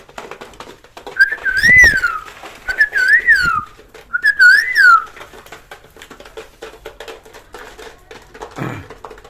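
Racing pigeons kept in a Bangladeshi village cooing, with three or four close, repeated calls in the first half, then quieter rustling and faint background noise.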